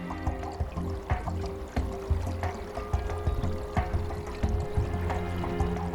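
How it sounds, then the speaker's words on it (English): Wastewater treated with hydrogen peroxide trickles and pours through glass tubes for solar disinfection, a faint, continuous liquid flow broken by small clicks and gurgles. "The water repeatedly runs through special glass tubes."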